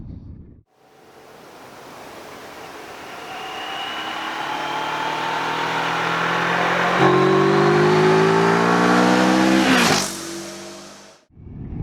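A CF Moto MT650 motorcycle rides out along a countryside road, its engine note climbing steadily through the gears under heavy wind rush, then easing off near the end.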